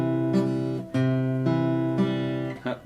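An acoustic guitar lesson chord from a song, strummed down the strings several times in a steady rhythm, each strum ringing loud and close before the next, with a final scrappy strum at the end.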